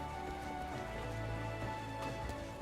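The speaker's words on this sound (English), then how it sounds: "And there's the rain back on." Rain falls in the Final Fantasy XIV: A Realm Reborn game world near the Limsa Lominsa ferry docks, a steady even patter over a constant low background drone.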